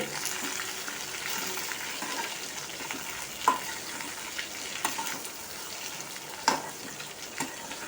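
A quarter kilo of okra stirred while frying in a pan, with a steady close sizzle throughout and a few sharp scrapes and clinks from the spoon against the pan.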